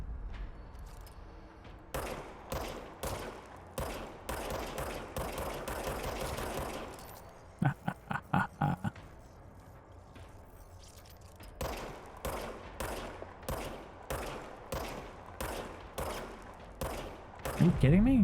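The service weapon fires in the video game Control, with repeated sharp shots in quick bursts that come in clusters over a steady hum of background ambience, and a short voice near the end.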